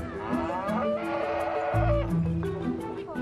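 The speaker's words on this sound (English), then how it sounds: "They're going head-to-head with their prize-winning cows, Jem and sister Cara" Highland cattle moo in long, deep, drawn-out calls at a show ring, loud and close, with overlapping lowing and a few higher bleating tones among the herd.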